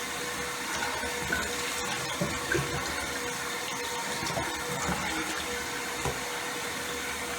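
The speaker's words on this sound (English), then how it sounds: "then I rinse off my toothbrush." Tap water runs steadily into a bathroom sink while a toothbrush is rinsed under it, a continuous close splashing rush with small irregular bursts and no talking.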